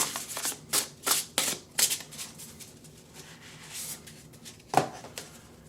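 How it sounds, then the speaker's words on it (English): A deck of oracle cards is riffled and shuffled in several quick, crisp bursts, then a pause and one more sharp shuffle, close and fairly quiet. "This is from the Priestess of Light Oracle cards. We're going to shuffle."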